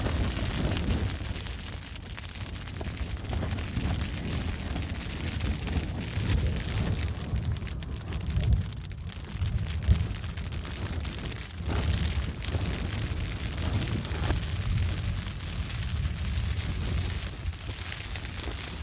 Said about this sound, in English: unfortunately, it's been raining, windy, thunder and lightning for the last